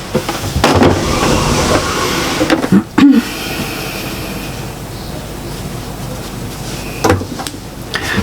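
Domestic sewing machine stitching the side seam of a fabric shopper bag at a half-inch allowance, a steady close mechanical whir running almost throughout with brief pauses and a clunk near three seconds.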